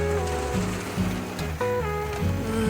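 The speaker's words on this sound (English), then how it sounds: "It's just rained non-stop today." Steady rain patters on and around a camper van parked at a freedom camp near Whangārei, a dense continuous wash of drops with no one speaking.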